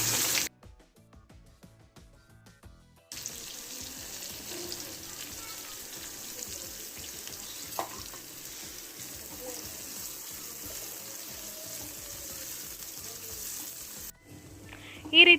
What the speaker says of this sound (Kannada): ಬಿರಿಯಾನಿ ಗಾರ್ನಿಷ್ ಮಾಡಲಿಕ್ಕೆ ಬೇಕಾಗಿ ಒಂದು ಬಾಣಲೆಗೆ ಎಣ್ಣೆ ಹಾಕಿ ಆನಿಯನನ್ನು ಫ್ರೈ ಮಾಡ್ತಾ ಇದ್ದೇನೆ.